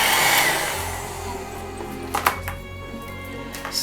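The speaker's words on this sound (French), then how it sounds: "pendant que vous êtes en train de sécher avec le sèche-cheveux" A hair dryer blowing steadily as it dries paint inside a cosmetic bottle for a Halloween craft, a loud continuous whir with a few clicks and knocks of handling near the end.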